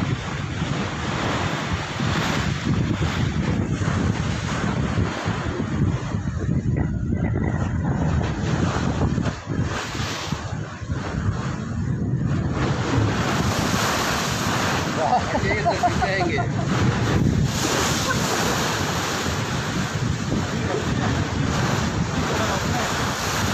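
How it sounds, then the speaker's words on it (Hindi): Ocean waves pound a marine geophysics research ship at sea in strong wind, with constant loud surging water and gusty wind buffeting the microphone while people exclaim and talk over it. "पानी जटा से मार रहा है"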